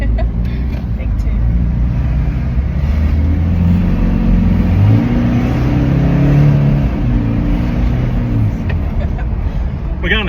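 Toyota Hiace van with a 1GD diesel, G300 Gturbo turbocharger and +30 injectors accelerating hard, a loud steady engine drone rising through the gears for about ten seconds, with road and cabin noise around it.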